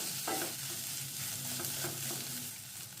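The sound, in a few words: stirring mashed green pea paste with salt and sugar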